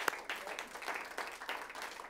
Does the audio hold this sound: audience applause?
yes